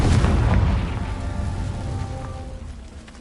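A Confringo spell explosion from the Hogwarts Legacy video game: a loud booming blast at the start that rolls on with a rumbling decay, no speech.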